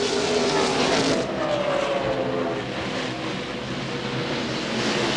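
Race trucks roar past at the 2000 NASCAR Craftsman Truck Series Florida Dodge Dealers 400, a loud continuous engine drone with tire noise that eases slightly as the pack sweeps by.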